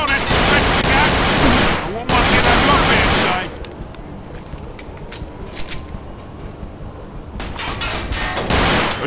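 Heavy gunfire in the crime shooter Mafia II, loud overlapping volleys for the first few seconds, then scattered single shots and a quieter lull before another loud burst at the end.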